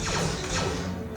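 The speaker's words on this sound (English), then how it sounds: "Was the glass cracking?" Glass cracks and splinters in an animated Star Wars Resistance scene, sharp crackling sweeps over rumbling engines and music, brief and loud with no voices.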